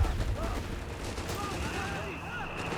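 Machine gun and mortar fire in the real-time strategy game Company of Heroes 3, a continuous muffled battle din of rattling gunfire and thumps heard under a commentator's voice.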